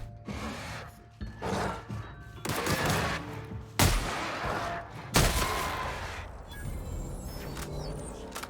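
Plasma rifle bursts in a sci-fi video game, a run of sharp, punchy shots in clusters over busy game sound, with a few louder blasts standing out.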